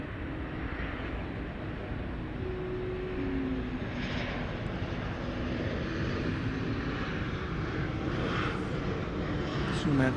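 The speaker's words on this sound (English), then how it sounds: "see a 737 coming in from Houston Intercontinental Airport" A Boeing 737 airliner arriving from Houston Intercontinental at DFW, a steady distant jet roar building gradually across the runway area, with a voice talking over it.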